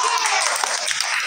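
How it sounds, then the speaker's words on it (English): A class claps hands in a dense, steady burst of applause-like patter that is loud and close throughout the short stretch, with no talk over it. "clap your hands."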